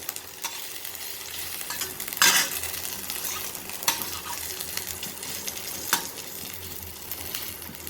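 Ginger sautéing in a small amount of oil with some tomato, a steady soft sizzle broken by a few louder scrapes and stirs from a utensil in the pan.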